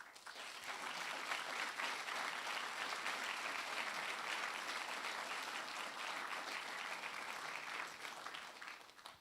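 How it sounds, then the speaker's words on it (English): An awards ceremony crowd claps in sustained, dense applause that swells quickly, holds steady for several seconds, then tapers off near the end. "that deserves a huge, huge round of applause."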